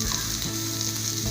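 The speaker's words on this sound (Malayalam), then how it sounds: "തേങ്ങ വറുത്തെടുക്കാം." Grated coconut fries in coconut oil in a hot pan, giving a steady, close, continuous sizzle with no voices.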